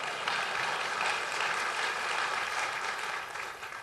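An audience at Iowa Freedom Summit, a political event, breaks into sustained applause with dense, steady clapping that fades slightly toward the end.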